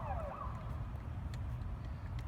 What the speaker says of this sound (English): some type of siren thing goes off